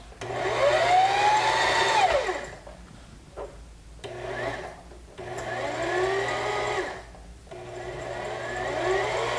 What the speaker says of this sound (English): cut the excess thread off my bobbin, and then resume winding, and push it to the left